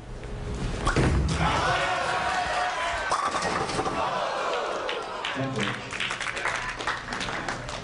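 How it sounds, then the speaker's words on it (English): Bowling ball striking pins in a professional bowling semifinal, one crashing impact followed by scattered pin clatter, under loud arena crowd noise and commentary talk. "He loves this shot off of his hand, only to watch a vicious ringing 10 as the 6 goes flying around it."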